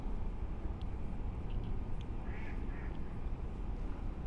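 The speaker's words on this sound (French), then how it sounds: "j'ai même le canard qui est d'accord avec moi." A duck quacks a few times, faint and somewhat distant, over steady outdoor background noise by the water where a fisherman is.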